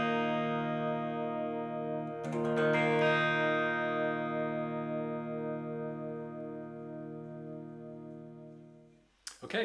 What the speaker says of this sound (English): So it should sound like this when you play an open chord.